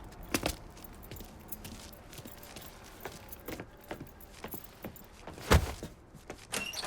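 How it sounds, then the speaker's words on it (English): A set of truck keys is picked up in Mafia 3, giving a short series of light metallic jingles and clinks scattered across a quiet background, with a sharper clatter near the end. "Lincoln, pick up the keys."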